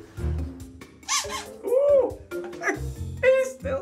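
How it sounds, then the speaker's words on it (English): A squeaky dog toy being cleaned, giving several close, high, wavering squeaks in short bursts with pauses between, mixed with handling noise and low rumbles. "Ooh, it still squeaks."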